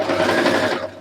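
Sewing machine stitching not-so-stretchy, high-cotton t-shirt fabric, a loud close continuous whirring run of about a second that eases off at the end.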